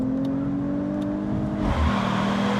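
A 2025 Mercedes-AMG CLE 53 Cabrio accelerates hard out of a corner, its engine note rising steadily with a steady drone, then surging louder near the end, with no talk.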